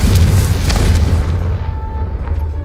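In Hogwarts Legacy, a Confringo fire spell detonates in a loud, close, deep boom that rolls and rumbles for a couple of seconds before fading into lingering low crackle.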